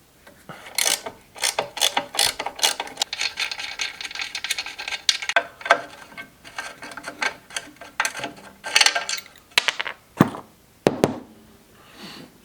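A ratchet wrench loosens bolts during a chopper motorcycle teardown, giving bursts of quick, sharp ratcheting clicks in an uneven rhythm with short pauses, close and clear, with no talking.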